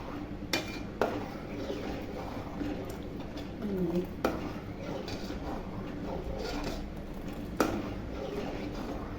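A spoon stirring milk in a pot for malai ice cream, making faint scrapes and occasional sharp metal clinks against the pot under someone talking.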